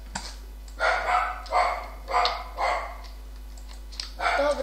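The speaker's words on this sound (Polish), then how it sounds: "Teraz będzie słychać psa." Dog barking in the video game Who's Your Daddy, a series of about five evenly spaced, fairly loud barks over a low steady hum, with no talking.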